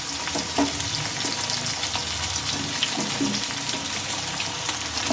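Pumpkin pieces sizzle steadily in a hot pan with no water or spices, a dense continuous frying hiss with occasional soft stirring scrapes, close and fairly loud throughout.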